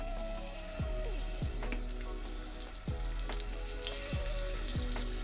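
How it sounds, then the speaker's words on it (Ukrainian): Steady crackling and sizzling of pork cracklings frying in hot oil, with sharp pops scattered throughout and no voices. "Олійка нагрілася, викладаємо шкварочки."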